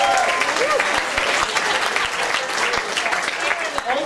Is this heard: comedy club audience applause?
yes